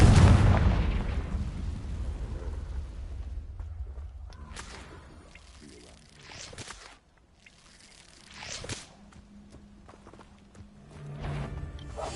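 A Confringo fire spell detonates in the Hogwarts Legacy video game, a loud booming blast at the start that rolls off into rumbling debris, followed by scattered crackles, thuds and footsteps in a quieter ruined setting.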